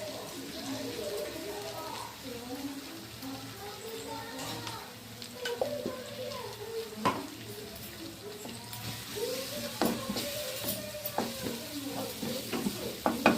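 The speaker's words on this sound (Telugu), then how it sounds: "అల్లం వెల్లుల్లి పేస్ట్ పచ్చివాసన పోయేదాకా వేయించుకున్నాం." Ginger garlic paste fries in a pan for egg fried rice while it is stirred. A soft, steady sizzle carries scraping stir strokes and light clinks, with faint voices underneath.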